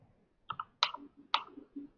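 A few sharp keystrokes on a computer keyboard, spaced irregularly and heard close up in a quiet room, with soft thuds between them as someone types a configuration file while deploying an Express.js backend.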